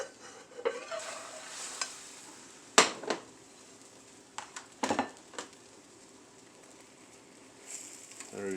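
Egg omelette sizzling softly in a frying pan while it is flipped off a plate, with a few sharp clatters and scrapes of utensil against pan over a faint steady frying hiss.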